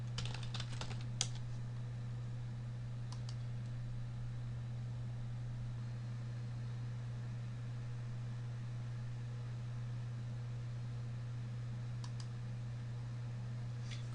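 A few faint, scattered keystrokes on a computer keyboard enter a password, heard over a steady low electrical hum in a quiet room.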